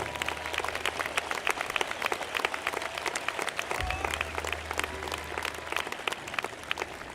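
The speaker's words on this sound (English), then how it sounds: "Let's give a round of applause." Audience at the 2021 Shawnee Mission East high school graduation ceremony breaks into sustained applause, a dense, steady wash of many hands clapping across a large crowd, holding even loudness throughout.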